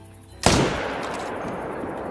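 A single sharp .300 rifle shot rings out in the hunting game Call of the Wild during a Cape Buffalo hunt, loud and close, then trails off into a long fading rumble.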